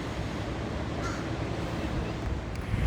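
Crows cawing in the background over a steady wash of outdoor ambience, harsh calls faint and distant, with no talking.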